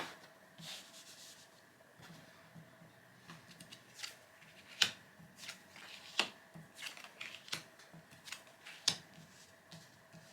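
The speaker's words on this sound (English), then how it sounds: "Deal 5 cards" Cards dealt one by one from a deck onto a table for the board game Archaeology: The New Expedition, soft close slaps and slides in an irregular rhythm, quiet with no talk.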